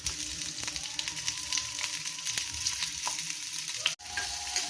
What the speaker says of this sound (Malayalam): വെളുത്തുള്ളി, ഉള്ളി ഒരുമിച്ചിട്ട് സോട്ട് ചെയ്യുക.